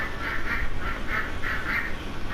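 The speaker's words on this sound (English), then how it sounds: "Ducks, quack." Ducks quacking in a video game: a rapid run of about eight nasal quacks in quick pairs, fairly close and clear over a low steady background, with no talking.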